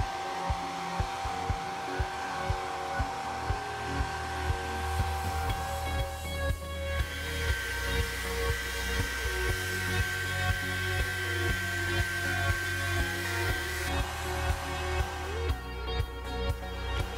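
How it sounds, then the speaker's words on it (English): A blow dryer on its highest setting heats a waxed leather riding glove, giving a loud, steady whirring blast that runs unbroken for the whole stretch with no talk. "you can help it inside by applying more heat, with a blow dryer this time. Switch it to the highest setting"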